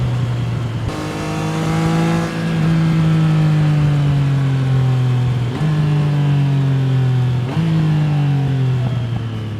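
A 2024 Triumph Trident 660 three-cylinder motorcycle engine revs up strongly and smoothly, pulling through several gear changes with brief dips between rising, loud accelerations.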